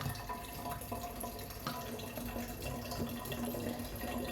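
Tap water runs steadily into a bottle at a sink, a continuous close rushing and gurgling stream at moderate level with no speech.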